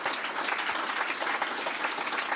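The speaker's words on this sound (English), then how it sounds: "big round of applause for them" A crowd at a South Australian Liberal Party election night event breaks into dense, sustained applause for the campaign volunteers, loud and continuous for the whole stretch.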